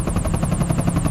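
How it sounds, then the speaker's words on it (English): A black helicopter comes down overhead in snowy open country, its rotor beating in a fast, steady chop with loud, constant engine noise throughout. "A black helicopter descends with no insignia, no flags, no warning."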